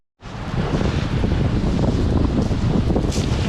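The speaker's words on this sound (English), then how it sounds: "it's a bit windy" Strong wind on a beach near Hastings buffets the microphone with loud, continuous low roaring and rumbling gusts, with no voices heard.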